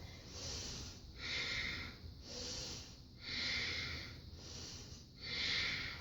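Powerful breaths pushed out during a yoga flow, about five long, rushing exhalations in a steady rhythm, close and fairly loud, with no talking.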